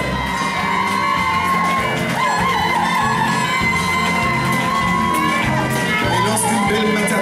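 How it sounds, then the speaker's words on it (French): A large audience at a Guadeloupe carnival queen contest cheers loudly for a contestant, a continuous roar of whoops, shouts and yells with crowd voices throughout. "Vos applaudissements, s'il vous plaît, pour Taïsia, qui nous vient de la ville du Vaudelin."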